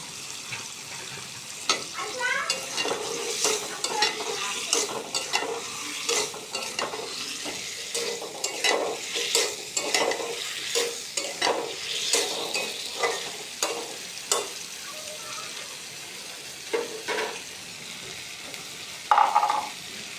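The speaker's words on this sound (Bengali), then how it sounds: "তাই কিছুক্ষণ আমি আলুটা কষাই নেব" Potatoes are sautéed in spice paste in a pan, with repeated scraping stirs in an uneven rhythm over a soft sizzle, close up and moderately loud.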